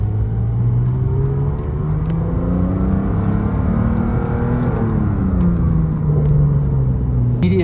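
Car accelerating in sport mode with manual shifting, a loud close engine rumble whose pitch climbs, drops at gear changes and climbs again, with no talk over it.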